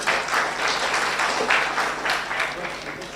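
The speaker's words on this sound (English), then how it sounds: "Let's clap for all of us." Audience applause at the inaugural University of Hargeysa International Research Conference: steady, dense clapping from a sizable crowd holding for about three seconds, with some voices mixed in.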